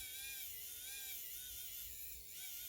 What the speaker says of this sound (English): I've got my little electric screwdriver that I got off eBay for about 30 bucks